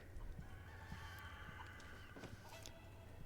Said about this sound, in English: we can get more brown eggs from these chickens if we mess up our throw right here